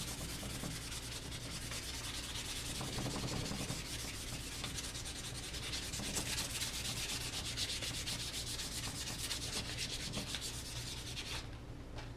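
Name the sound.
light sanding with 400-grit sandpaper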